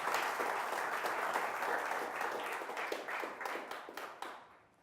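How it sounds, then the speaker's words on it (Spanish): Church congregation applauding during a Spanish-language service, a steady wash of many hands clapping, moderately distant, fading out toward the end. "Démosle un aplauso al Señor."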